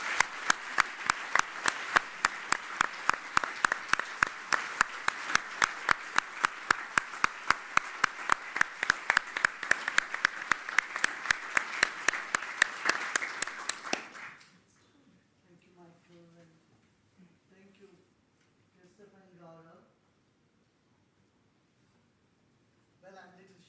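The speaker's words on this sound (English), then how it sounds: "round of applause." An audience claps in unison to welcome Sri Sri Ravi Shankar, loud rhythmic synchronized claps at a steady beat for about fourteen seconds, then the hall falls quiet except for faint talk.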